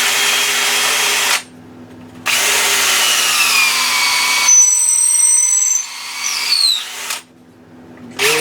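A power drill bores out a custom fishing float, its loud whining motor running in steady stretches that stop and restart several times, with faint squeals as the bit cuts.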